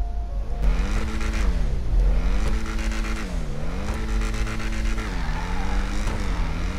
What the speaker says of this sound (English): It's a rough sounding vehicle.